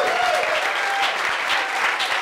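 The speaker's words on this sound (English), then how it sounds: "Give her a big round of applause." A comedy club crowd claps steadily, a dense wash of applause from a nearby audience lasting a couple of seconds with no talking over it.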